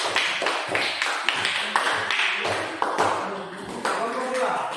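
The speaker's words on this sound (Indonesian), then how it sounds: "Tepuk tangan dulu untuk kelompok 1." A classroom of students gives a group a round of applause: quick, uneven clapping with sharp taps, mixed with voices and chatter throughout.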